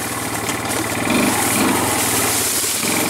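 A four-wheeler ATV engine runs steadily in first gear on a wooded trail, a close, continuous mid-pitched drone with slight surges in intensity.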